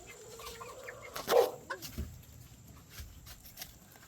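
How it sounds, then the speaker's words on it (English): Twenty-four six-week-old meat chickens in a coop give soft, scattered clucks and murmurs close by, with one louder call rising briefly over the low, steady background. "these meat birds are going to be 6 weeks old tomorrow and ready for harvesting"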